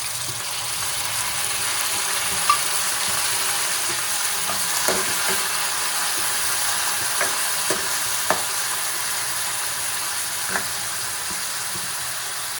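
Onions and garlic frying in a pan for gorikayi gojju, a steady close sizzle throughout with occasional scraping taps of a spatula stirring.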